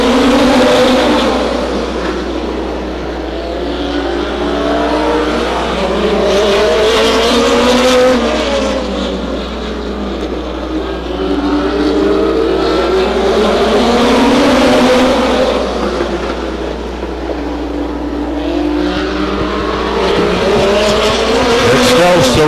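Race cars circling Stockton 99 Speedway in a 2002 race, engines roaring loudly and continuously with rising and falling pitch as cars pass, tires squealing through turns, and a commentator talking underneath.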